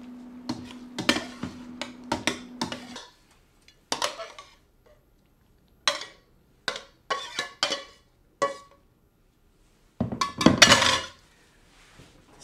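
A utensil clinks and scrapes against a pan while cooked eggplant is stirred with crushed garlic, giving irregular bursts of clatter separated by short pauses, close and clear.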